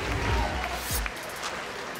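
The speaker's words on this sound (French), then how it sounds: "Un tonnerre d'applaudissements" An audience applauds two wrestlers after their match, a steady wash of clapping from the crowd that carries on at an even level throughout.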